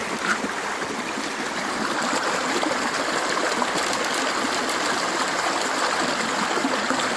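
The East Fork of the San Gabriel River at Heaton Flats flows in a steady, full rush, loud and close, with no speech over it.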